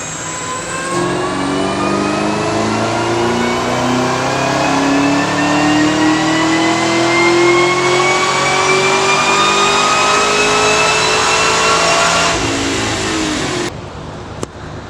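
A Chevrolet Camaro ZL1 engine revs steadily upward on a chassis dyno, a loud sustained climbing roar with rising harmonics for about twelve seconds before cutting off abruptly.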